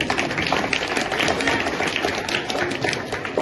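Dense, steady clapping from a gathered audience at a Jyoti Kalash Rath Yatra deep yagya ceremony in Dinkarpur Shahpur, Muzaffarnagar, sustained and fairly loud throughout, with a faint murmur of voices underneath.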